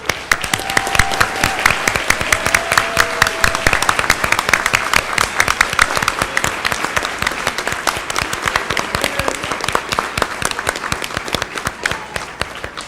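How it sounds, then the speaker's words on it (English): An audience at a Board of Education meeting gives a long, loud round of applause for students receiving recognition, a steady crackle of many hands clapping throughout, with faint voices briefly audible early on. "could we please give them one more round of applause?"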